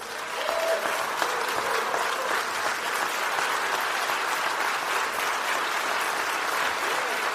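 Sustained, dense applause from a large audience after a line about school choice in a speech, loud and steady throughout with no voices over it.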